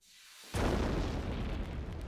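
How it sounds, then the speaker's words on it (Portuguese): A single loud dynamite blast blows open a safe in an express train car, a sudden deep boom after a short rising hush, then a long rumbling decay. "Então eles usaram mais dinamite."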